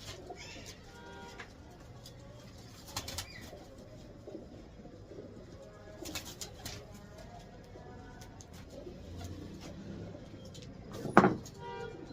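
Soft cooing calls of young pigeons drift under quiet room noise, with occasional knocks and a louder shuffle near the end.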